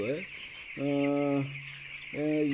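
Broiler chicks on a poultry farm give repeated loud, clear cheeping calls in short bursts, close by, with a steady background hum.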